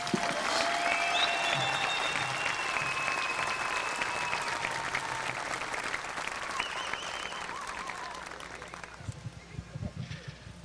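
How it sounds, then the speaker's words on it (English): A large outdoor crowd at a Fourth of July morning program gives a sustained round of applause, loud and dense at first, then slowly thinning and fading, with cheers and voices woven through the clapping. "Can we give them a round of applause, please?"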